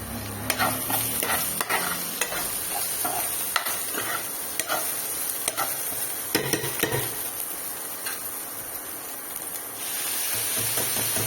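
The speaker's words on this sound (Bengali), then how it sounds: "এখন পেঁয়াজটা ভাজছি" Onion fries in a pan with a steady close sizzle, broken by frequent sharp scraping clicks of a spatula stirring against the metal.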